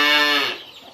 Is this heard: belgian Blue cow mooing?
yes